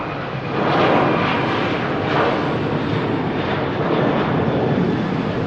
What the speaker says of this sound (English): Just spooling up is the Ryanair heading to Copenhagen, 737 Victor Alpha.